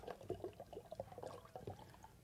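Distilled water is poured into a container during a home science experiment, a faint, uneven trickle of small splashes lasting about two seconds with no talking.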